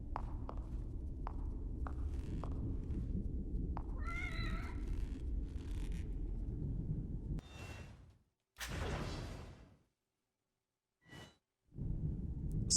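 A pet cat being petted and scratched by its owner gives a short rising meow over steady low rumbling background, followed by soft breathy sighs and brief rustles before falling quiet.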